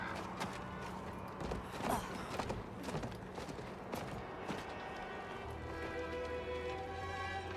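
Horse hooves clip-clop in the Diablo 4 video game, a light irregular trot under game sounds and music, with a few sharper clacks and a steady tone toward the end.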